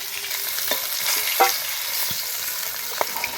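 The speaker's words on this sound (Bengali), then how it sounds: "সেই তেলেই দিয়ে দেবো তেজপাতা গোটা জিরে" Bay leaf and whole cumin hit hot oil left over from frying fish, giving a steady bright sizzle broken by a few sharp crackles and pops.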